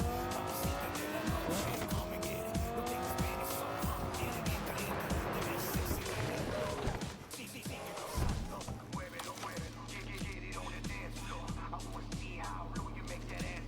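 A car in Cyberpunk 2077 skids sideways with long, loud tire squeals over a roaring engine, then the screech fades and a rumbling idle with a steady hum takes over.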